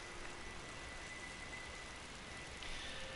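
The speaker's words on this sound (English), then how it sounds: "And it's raining." Steady, soft hiss of rain falling in the role-playing video game Final Fantasy XII, a continuous even wash with no breaks, quiet and ambient throughout.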